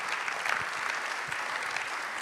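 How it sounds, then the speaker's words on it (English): A large audience at a European Athletics awards event applauds steadily, a dense, even wash of clapping that holds at moderate volume throughout with no talk over it. "A round of applause, yes indeed, for Berlin 2018."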